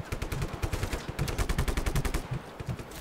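Rapid bursts of automatic gunfire from enemy shooters in the Just Cause 3 video game, loud and sustained machine-gun rattles with overlapping shots filling the whole stretch, no talking.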